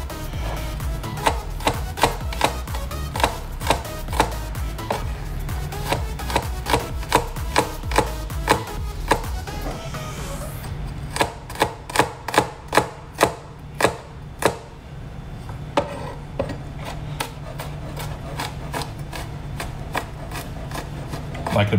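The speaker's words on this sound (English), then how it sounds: "Next thing is chop the garlic." A sharp knife chops Nigerian garlic on a board in quick, regular strokes, first steadily under a low hum, then in a sharper, louder burst of about a dozen evenly spaced cuts before trailing off.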